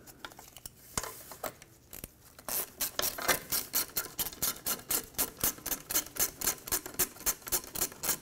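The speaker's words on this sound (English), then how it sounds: "put the two mounting nuts on," Small nuts being tightened by hand with a ratchet onto heat shield studs on the exhaust manifold of a 2009-2019 Ford Flex, a steady run of quick, close clicking strokes after a few scrapes and knocks, with no talking.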